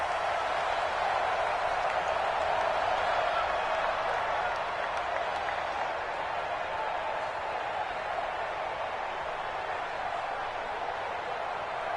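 Stadium crowd roaring and cheering at kickoff in a football video game played on PS4, a steady, dense wall of noise lasting throughout without letting up.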